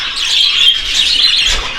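Continuous high, bright chirping from budgerigars, steady twittering close by with no pauses and no voices.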